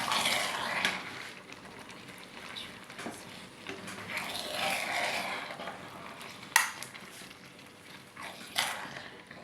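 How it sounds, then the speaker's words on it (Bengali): Beef stirred in a pot for beef biryani gives soft scraping and clinking of a utensil against metal over a faint sizzle, with a couple of sharper knocks near the end. "আমরা মাংসটা দিয়ে দিলাম। এখন এভাবে নাড়াচাড়া দিয়ে দিবেন।"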